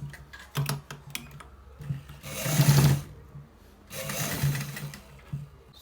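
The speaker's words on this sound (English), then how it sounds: "So guys, we are stitching it." A sewing machine stitching a pocket runs in two bursts of rapid mechanical whirring and clatter, with light ticking and handling sounds between them, close and moderately loud.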